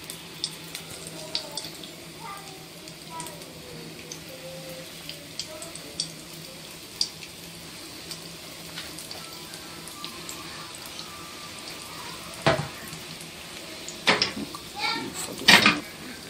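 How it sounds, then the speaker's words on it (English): Buns fry in a pan with a steady low sizzle throughout, broken by occasional clicks and louder clatter near the end, with faint voices in the background. "So I want to fry my buns now."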